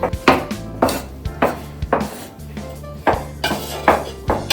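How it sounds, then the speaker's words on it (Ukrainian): A pestle grinds poppy seeds with sugar in a clay bowl, rhythmic scraping strokes with hollow thuds about every half second, close and fairly loud. "Насправді мак важко терти."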